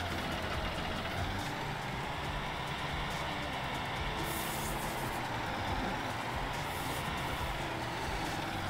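A truck driving in Farming Simulator 19, a continuous low engine drone with steady road noise and a few faint hissing air-brake bursts, with no talking.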